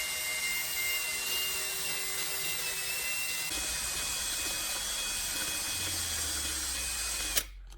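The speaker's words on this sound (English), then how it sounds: "Run the drill again and watch the color spread through the cement paste." A steady, high-pitched electric drill whirs continuously while mixing paint into cement paste, its tone shifting slightly partway through, then cuts off abruptly near the end.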